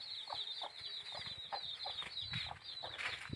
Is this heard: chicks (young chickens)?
yes